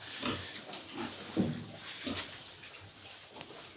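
A pregnant sow close to farrowing grunts softly in short repeated snorts and oinks, close by, with a low background hiss.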